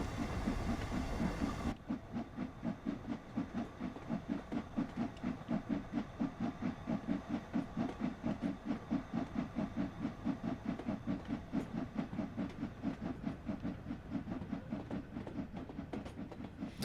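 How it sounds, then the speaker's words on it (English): A steam locomotive on a passenger run in the video game Train Sim World 2 on Xbox Series X chuffs in a fast, even rhythm over a steady hiss, starting after a brief rumble and continuing loud and close for the rest of the clip. "There we go, you can hear it chuffing now."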